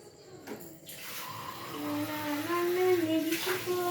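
Running water splashes as something is washed under a flowing stream, a continuous close wash that grows louder over a few seconds, with a faint voice in the background.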